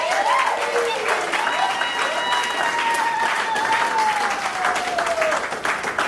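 Applause at a civil wedding ceremony in a town hall in Moungali, Brazzaville, breaking out right after the vows. Continuous clapping runs under excited voices and ululating cries from the guests.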